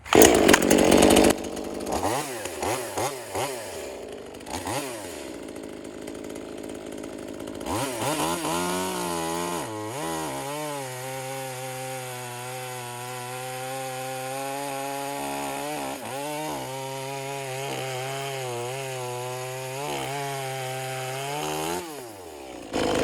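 A V-Modest 2511 top handle chainsaw, an Echo 2511 clone, fitted with a Stihl quarter-pitch chain, revs up in bursts and then holds a steady loud buzzing whine, close by and with no talking.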